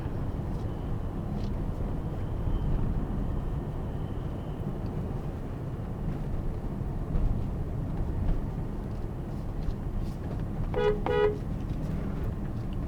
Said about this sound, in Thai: เสียงแตรคันนี้ก็ดังดีนะครับเมื่อกี้เราส่งบีบแต่ให้สัญญาณเผื่อมีรถกำลังลงมา